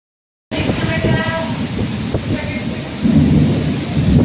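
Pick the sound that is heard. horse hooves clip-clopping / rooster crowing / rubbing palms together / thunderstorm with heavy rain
thunderstorm with heavy rain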